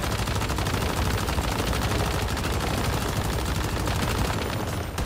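Sustained automatic fire from the player's gun in Once Human, a fast unbroken rattle of shots, loud and close, running without pause and with no talking.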